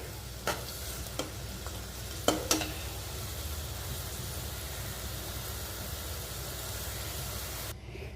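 Eggs cooking in a pan for Bangladeshi egg bhuna give off a steady, even sizzle, broken early by a few sharp scrapes and knocks of a stirring utensil.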